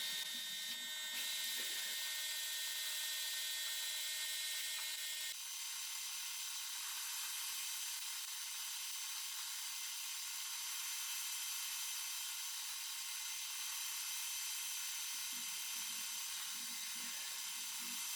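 A steady, high-pitched mechanical whine of a drill boring into metal runs without pause, close and constant.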